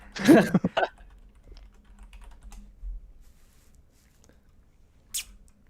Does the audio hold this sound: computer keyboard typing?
yes